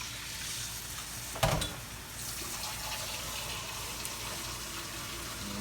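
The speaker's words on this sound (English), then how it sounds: "Now, pour this water in here." Water poured into a hot pan of browned chicken and flour, a sudden loud splash and burst of sizzling that settles into a steady, fainter bubbling hiss.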